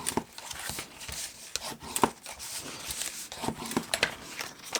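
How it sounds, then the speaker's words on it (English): Burnishing a hand-stamped, ink-coloured paper box lid, a dry rubbing and scraping of a tool over card that comes in close, irregular strokes with sharp little ticks and no talk. "I'll burnish the lid as well."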